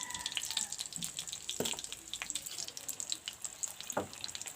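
Chopped onion leeks for pyaj saag dropped into hot oil, giving a steady close sizzle and crackle with a few louder bursts of spattering and stirring clatter, no voices.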